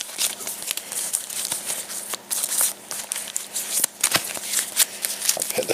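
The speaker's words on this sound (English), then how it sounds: "let's have a shuffle about of these." Cards from the Lonely Crypt deck of the Castle Ravenloft board game are shuffled by hand, giving a close, steady run of papery riffles and soft flicks with a few sharper snaps.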